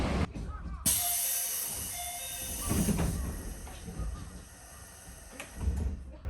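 A five-car local made of coupled JR Central 313 and 211 series units pulls out of Kozu station on the Gotemba Line at dawn: a sharp air hiss and door thud, then a steady rolling rumble with faint squeals.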